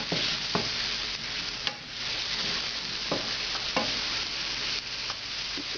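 Mushrooms fry in a large pan with a loud, steady sizzle, broken now and then by sharp scraping and knocking strokes as they are stirred; no one speaks.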